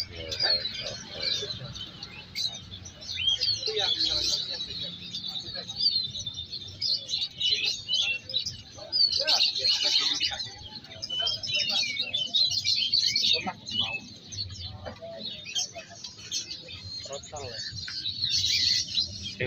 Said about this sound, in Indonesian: Ada burung murai trotol, murai trotol.